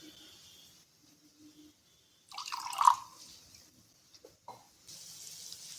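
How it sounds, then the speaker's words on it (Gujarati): A little water is poured into a mortar of ground garlic and chili masala, a faint trickle and splash with a few drips before and after, in a quiet room. "ખાંડણીમાં આપણે લસણ મરચું મિક્સ કરીને આપણે અહીંયા વાટીતું એની અંદર આપણે અહીંયા થોડું પાણી ઉમેરીને"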